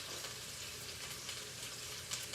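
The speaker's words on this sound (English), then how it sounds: "I'm just frying this at medium heat" Faint, steady frying sizzle of chicken in a pan over medium heat, even and continuous with no talking.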